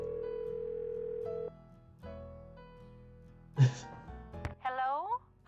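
A telephone dial tone in the Nancy Drew game The Secret of Shadow Ranch, a steady hum for about a second and a half, then quieter tones, a click and other game sounds, with a voice starting near the end.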